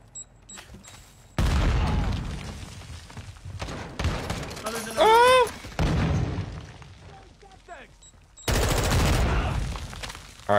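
Gunfire in Warzone 2.0 arrives in loud broadband bursts of rapid automatic fire and booms, some sustained for seconds, with quieter gaps and a voice briefly heard between the shots.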